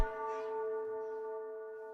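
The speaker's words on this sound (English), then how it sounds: "Hearing that bell, baby." A church-style bell rings inside a music track, one strong struck tone with long sustained harmonics that decay slowly over two seconds, loud and clear with no talking.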